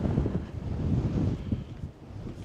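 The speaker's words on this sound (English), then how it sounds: "It's very windy, which makes it the cold factor even worse." Strong gusting wind on Hobart's waterfront in Tasmania buffets the microphone, a continuous low roar that rises and falls with no other sounds.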